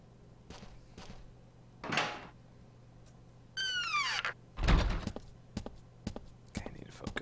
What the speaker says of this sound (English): I really didn't want to unlock this door